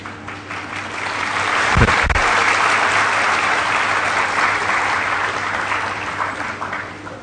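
An audience at a Hare Krishna spiritual lecture applauds in a sustained, even burst that rises and holds for several seconds before slowly fading, with a single louder thump early on.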